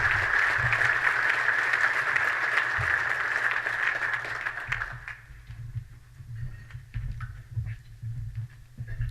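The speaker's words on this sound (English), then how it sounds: "Let's have a round of applause for all of our sponsors." Audience at a charity breakfast program applauding for sponsors, a dense wash of clapping for about five seconds that thins and fades into scattered claps and room noise.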